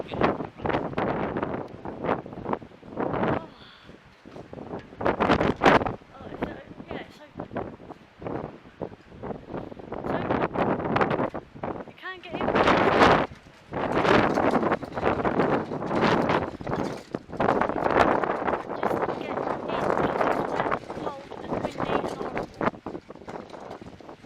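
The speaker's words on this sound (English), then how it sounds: "It's too windy." Strong wind gusts across a stormy, rainy beach in Bournemouth, roaring and buffeting the microphone in uneven surges while people talk over it now and then.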